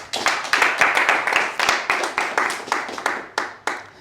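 A small congregation in a church claps in a brisk rhythm, the sharp claps landing roughly in time and close, with faint voices underneath.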